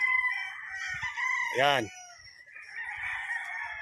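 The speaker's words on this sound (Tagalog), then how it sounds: "Yan po ang mga manok niya na pang circuit." Circuit-bred gamefowl roosters give one loud, close crow lasting about half a second, over a steady background of other fowl calling and clucking; a brief voice speaks.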